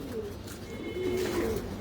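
Pigeons coo at a pigeon farm, soft low throaty calls overlapping close by against a steady background.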